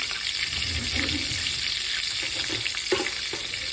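Chicken fried steak cooks in a pan on a gas stove, a dense, loud, steady hiss of frying oil with faint low bumps, close up and without speech.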